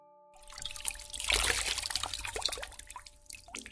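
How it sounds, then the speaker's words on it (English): Water trickles and drips steadily, a busy wet patter with small splashes, fairly close and continuous for a few seconds. "heard water trickling as Pack ran sponges across the girl's brow"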